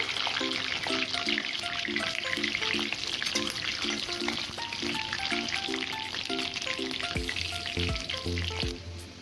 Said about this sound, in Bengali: ক্যাপসিকাম ভেজে নেব।